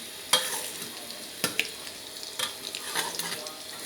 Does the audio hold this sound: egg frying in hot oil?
yes